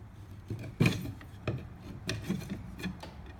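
Wooden stave pieces of a hanging display being slid into their grooves, with a few distinct close rubbing scrapes and light wooden knocks spaced over a few seconds.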